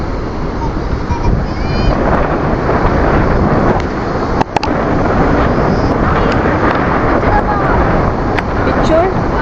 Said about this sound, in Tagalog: ang lakas na agad ng hangin ngayon.